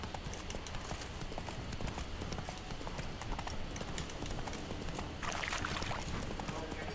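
The hooves of Roach, the horse in The Witcher 3, clop in a fast, steady rhythm over a continuous outdoor rush, with a brief splashing surge near the end.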